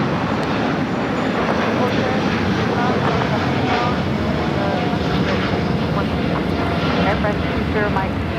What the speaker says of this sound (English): 102 taking off to Seoul on the 787-9 Dreamliner